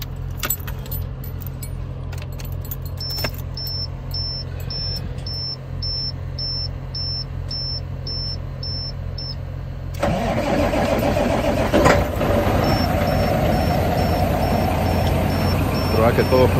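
Volvo VNL truck, with freshly cleaned battery terminals, sits quiet with repeated dash warning chimes and key jangling, then the diesel engine cranks and catches at once into a loud, steady idle, with someone speaking Spanish.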